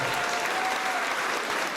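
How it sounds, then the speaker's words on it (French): A concert audience at a charity evening breaks into dense, sustained applause. The clapping is loud and even throughout, with no gaps, and a faint crowd murmur sits under it. "Un tonnerre d'applaudissements pour Val Jackson."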